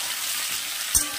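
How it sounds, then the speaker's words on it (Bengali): Potatoes and jackfruit frying together in a pan, giving a steady close hiss of sizzling oil through the whole short moment, with one brief louder scrape or stir near the end. "আলুগুলো আর এঁচোড়গুলো সবগুলো ভালো করে একটু ভাজা ভাজা হবে"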